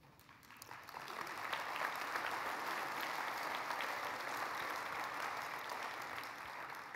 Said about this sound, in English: Already got applause in the first 5 minutes.